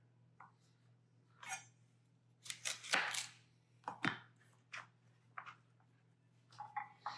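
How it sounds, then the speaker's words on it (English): A knife chops through carrots on a cutting board in irregular bursts of crisp, close knocks, some quick clusters and single strikes separated by short pauses, with a faint steady hum underneath. "I'm almost done chopping these carrots."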